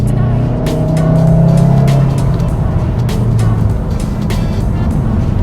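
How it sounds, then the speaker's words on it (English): A Volkswagen Mk7.5 Golf R engine drones loudly and steadily through its standard exhaust, heard from inside the car, with a low rumbling tone that swells slightly. "standard exhaust for me makes a really good noise,"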